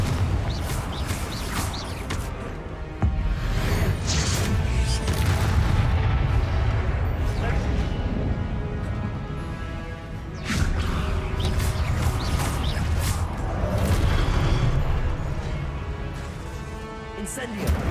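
In Hogwarts Legacy, Confringo explosive spells go off as repeated heavy blasts and booming impacts amid continuous loud combat noise, with a voice shouting over them.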